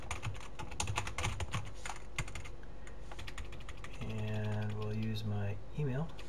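A username typed on a computer keyboard: rapid, uneven bursts of close key clicks, followed by a voice in the last couple of seconds.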